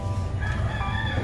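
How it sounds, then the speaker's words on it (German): A rooster crows briefly near a wood-fired outdoor cooking area in Mindanao, Philippines, a short strained call heard over a low background rumble. "Das ist der Hahn."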